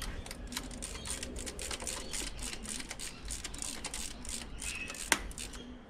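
Bolts are tightened during an individual throttle body install on a GM LS engine, giving quick rows of faint mechanical clicks with one sharp louder tick near the end.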